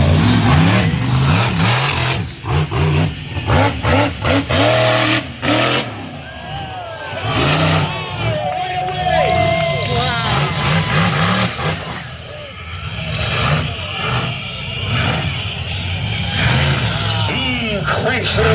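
A monster truck engine roars and revs hard as it drives around a Canadian arena. The sound is loud and sustained, rising and falling with the throttle, and an announcer talks over it throughout.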